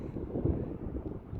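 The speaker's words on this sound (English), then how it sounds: "And it's really windy through here," Strong wind gusts through a river valley between two mountains, a steady, close, broadband rumble that buffets the microphone without pause and carries no voices.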